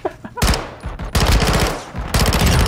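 Loud, close automatic gunfire in Call of Duty Modern Warfare 2, a few brief shots followed by long rapid machine-gun bursts that fill nearly the whole moment.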